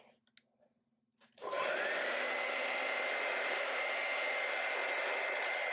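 A hair dryer switches on after a moment of near silence and blows continuously, loud and close, drying wet acrylic paint on a canvas.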